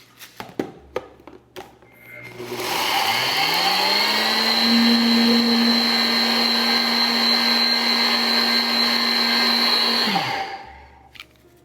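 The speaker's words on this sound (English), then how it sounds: "we're going to use oats. And we're just going to quickly grind them into a flour" Countertop blender grinding oats into a rough flour, a steady loud whirring run of about eight seconds that spins up sharply and cuts off cleanly, with a few clicks and knocks before it starts.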